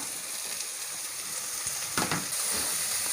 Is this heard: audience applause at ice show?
no